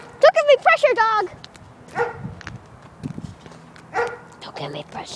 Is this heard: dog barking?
yes